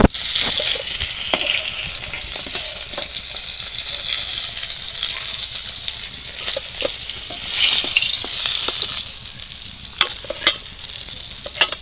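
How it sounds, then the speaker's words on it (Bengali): Onions fry in hot oil for a curry of carp with bottle gourd stalks, giving a steady, close, dense sizzle and crackle that runs the whole time with occasional stirring clicks and scrapes. "আমি প্রথমে এই পেঁয়াজগুলো ভেজে নেবো"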